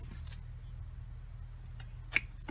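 Small plant branches are snipped with pruning shears, giving a few crisp clicks spaced apart, the last one loudest, close by over low background rumble. No talking.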